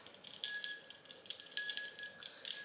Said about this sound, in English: Right, so we now have a whole collection of bells.